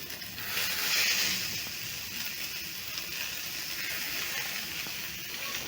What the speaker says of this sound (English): So as you can see, my pan is smoking hot. So I'm going to place my skewers